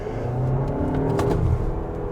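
A 2025 Volkswagen Tayron pulls hard during a kickdown, its engine giving a steady, loud rumbling roar from inside the cabin without any talk.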